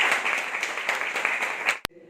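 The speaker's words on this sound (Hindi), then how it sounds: "जोरदार तालियों से इनका स्वागत करता" Lively audience applause welcoming guests at a 75th birthday celebration, close and fairly loud with dense clapping that stops abruptly before a short sharp click.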